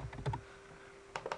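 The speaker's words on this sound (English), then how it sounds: "if I press F on the keyboard" Keys on a computer keyboard click during CAD modelling work, a few quick taps at the start and another short cluster near the end, faint and close with quiet between.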